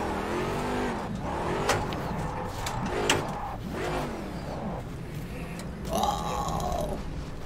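A race car engine at the laser-scanned Sebring circuit in the rFactor 2 racing simulator revs up and down repeatedly, with sharp throttle blips and a steady rough drone between the surges.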